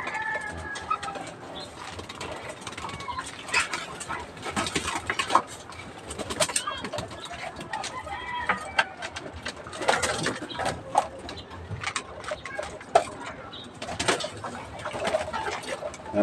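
Pet pigeons coo and flutter amid a busy stretch of clicks, rattles and mechanical clatter, with faint voices now and then in the background.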